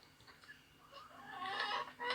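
A laying hen near a nest in a chicken coop, soft clucks building into a louder stretch of cackling, fairly faint and alone.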